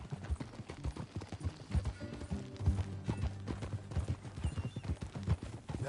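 Steady clip-clopping hooves of a horse being ridden in Red Dead Redemption 2 sound as a continuous, fairly faint rhythmic trot with no talk over it.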